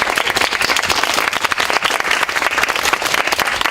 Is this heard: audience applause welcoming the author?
yes